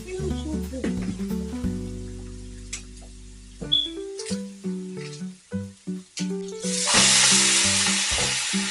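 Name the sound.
stirring a sizzling pot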